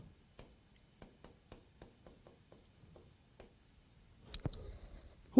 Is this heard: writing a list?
yes